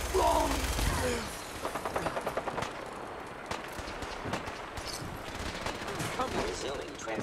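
Gunfire in the video game Fallout 4, a loud burst at the start, then rapid, dense volleys of automatic shots that continue in uneven bursts over a busy mix of game effects.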